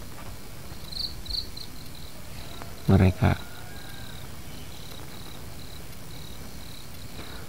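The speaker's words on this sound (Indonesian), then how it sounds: "Mungkin kalau di kota sudah jarang ya pemirsa ada suara jangkrik seperti ini, suara kodok" Crickets chirp steadily in a quiet rural outdoor setting, a faint continuous high trill through the whole stretch, with a few brief louder knocks or bursts of talk near the middle.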